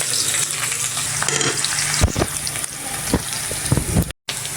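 Onion sautéing in a pan on a home stove, a loud close sizzle with a few sharp scrapes and clatters of stirring, briefly cut off near the end.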